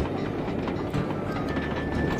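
A moving train in the video game Sly 2: Band of Thieves gives a continuous rumbling, rattling roll with a faint high tone, steady and moderately loud, with no talk over it.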